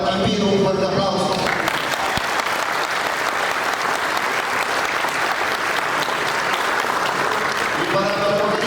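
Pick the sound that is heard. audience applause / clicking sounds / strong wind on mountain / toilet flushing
audience applause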